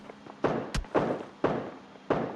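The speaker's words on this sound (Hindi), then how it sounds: "हमारी बिल्डिंग की दीवार पे कौन इतनी दूर से गोलियां मारने की कोशिश कर रहा है।" Distant gunfire in PUBG Mobile on the Livik map strikes a building wall, heard as four sharp, loud impacts spaced roughly half a second apart, each with a short decaying tail, plus one brief crack between the first two.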